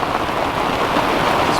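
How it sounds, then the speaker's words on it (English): Heavy rain pours steadily on a sailboat at night during a thunderstorm with a southerly wind, a dense, constant close-up wash of drops hitting the boat with no breaks and no voices. "Now we've got this southerly and a heap of rain and thunder And lightning"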